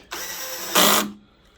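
A power drill with its clutch set to 4 whirs steadily for about a second while working on an LCD projector, then surges louder briefly before winding down to a faint mechanical hum.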